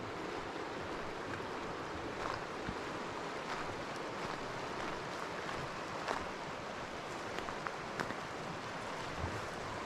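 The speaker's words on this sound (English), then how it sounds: "This is a beautiful Platte River, South Platte River." South Platte River water flowing in Colorado, a steady broadband rush with scattered splashy ticks, close and continuous throughout with no voices.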